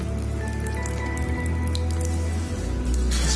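Water drips and splashes as a Japanese cherry blossom body scrub is wetted, with a series of small, close drips over a low hum.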